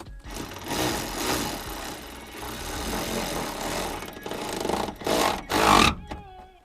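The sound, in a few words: ratchet tightening roof rail bolts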